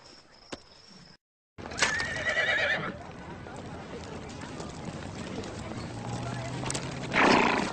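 Horse in a movie clip, a loud whinny near the start of the main section and another near the end, with hoof-like thuds and background film sound mixed under voices.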